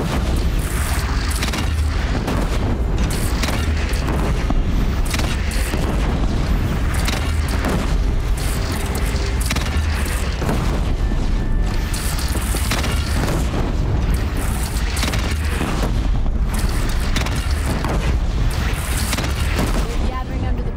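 Cannon fire from an Oseram cannon in the video game Horizon Zero Dawn, with heavy booms and blasts rolling over continuous loud battle noise and commotion for the whole stretch.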